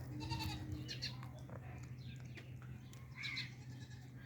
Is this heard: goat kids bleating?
yes